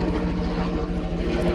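Steady rhythmic thudding of helicopter rotor blades with a droning engine hum, loud and close overhead throughout.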